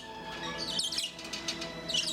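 Baby Bourke's parakeets chirp in short, high, scattered bursts, close and clear over a low background hum, with no talking.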